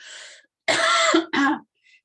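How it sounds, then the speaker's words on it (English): Close, throaty clearing and coughing in two quick bursts after a softer breathy sound, with no talking, during a council meeting webinar. "Excuse me, I'm going to cough."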